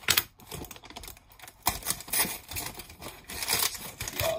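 Old-style wrapping paper is torn and crinkled off a parcel holding a Hot Wheels Porsche, giving a busy run of close, irregular rustles, rips and crackles with no voices.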